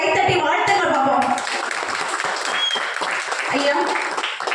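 A village audience at a Tamil debate stage event applauds, a broad wash of clapping at the start that thins out as a speaker's voice carries on over it.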